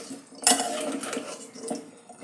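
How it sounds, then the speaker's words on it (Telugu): A pumpkin curry being stirred in a pot: a spoon clinks and scrapes against the metal once, followed by soft wet stirring and sloshing at close range, with no talking. "కూర ఒకసారి కలుపుదాం."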